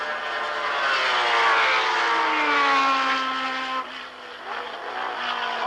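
Can-Am race cars at Lime Rock in 1985 pass close by, a loud engine roar whose pitch sweeps down as they go through the diving turn onto the front stretch, with a brief dip before a second car follows.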